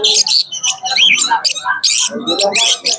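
Cockatiels at an outdoor bird market, including lutino hand-fed birds, let out loud, dense bursts of squawks and harsh calls that overlap one another and continue steadily with no pauses.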